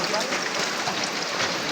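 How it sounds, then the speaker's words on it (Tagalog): Steady rain falls outdoors near a rural water source, a continuous broadband hiss of drops on surfaces with no distinct pauses, moderately loud and close throughout. "Yan, ulan"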